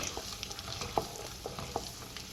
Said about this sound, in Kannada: ಕಡಲೆ ಬೀಜ ಹಾಕ್ಕೊಂಡು ಒಂದು ಎರಡು ಮೂರು ನಿಮಿಷ ಫ್ರೈ ಮಾಡ್ಕೋಬೇಕು